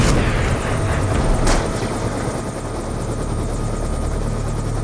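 A Hind helicopter approaches in the video game Black Ops 2, its loud, steady rotor roar and engine drone filling the whole stretch with no talking.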